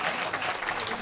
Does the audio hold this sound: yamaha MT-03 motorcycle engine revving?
no